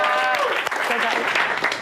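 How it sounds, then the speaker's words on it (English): Group applause with steady broadband clapping throughout, loud and close, over a talking voice at the start, at a fitness coaching team gathering. "Clap it up, clap it up."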